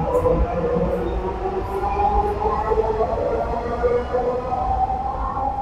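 A Dhaka metro rail train at Agargaon station gives a steady, loud, continuous rumble with a droning tonal hum throughout, and no one speaks.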